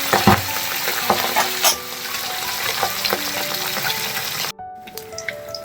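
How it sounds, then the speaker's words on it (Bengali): Pabda fish sizzle in hot oil in a pan as they are flipped, a close, steady frying crackle with sharp spatula clatters, then a sudden cut to quieter sizzling. "দেখো মাছের এক পিঠ ভাজা হয়ে গেছে, এবার ওই মাছটা উল্টে দিচ্ছি।"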